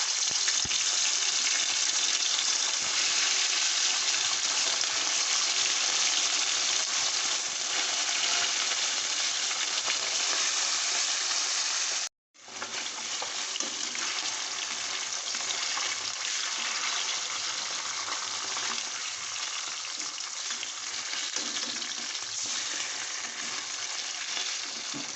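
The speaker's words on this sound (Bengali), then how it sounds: "তেলটা গরম হয়ে গেলে একে একে বাটা মাছগুলোকে ভেজে নিন।" Bata fish fry one by one in hot oil in a kadai, a loud, continuous, close crackling sizzle that cuts out briefly midway and then carries on at full strength.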